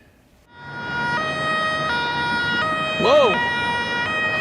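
A fire truck siren wails loudly and continuously with stepped, alternating tones and a brief rising-falling sweep, close by, with a child's short exclamation over it.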